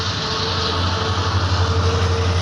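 A train approaches a closed railway crossing at night with a steady, continuous rumble and low drone that holds evenly throughout, with a car waiting at the gate.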